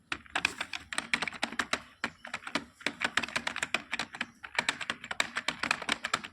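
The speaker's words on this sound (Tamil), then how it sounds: "உங்கள் ப்ரொஃபைல் டைப் பண்ணுங்கள்." Rapid bursts of keystrokes on a computer keyboard while filling in a profile, with crisp clicks in steady runs and a brief pause before typing resumes, close and alone without talk.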